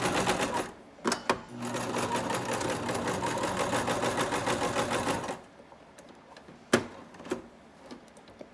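A sewing machine stitches fleece mittens in a steady, fast, loud whir for several seconds, then stops, leaving a few clicks and small handling knocks.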